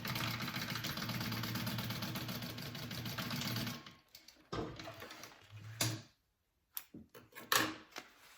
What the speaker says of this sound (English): So I'm going to sew my first 2 ends together here.